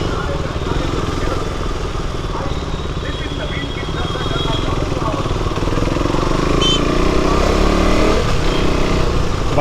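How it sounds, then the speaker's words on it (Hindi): A KTM RC390 motorcycle engine runs steadily while riding, a constant loud drone with wind and road rumble that swells slightly toward the end, with no voices. "बाइक अभी मस्त चल रही है।"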